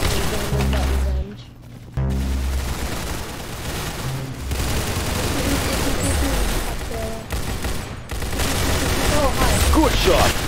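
Gunfire in the online shooter Arsenal: bursts of rapid automatic shots and heavier booms crackle through the scene, with brief gaps of quiet and game sounds mixed in.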